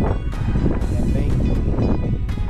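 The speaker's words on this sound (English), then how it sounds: "Windy and you get lots of sand in your eyes" Wind blows steadily through Peekaboo Canyon, a sandy slot canyon in Kanab, Utah, a loud continuous rushing roar buffeting the microphone with brief gusty surges.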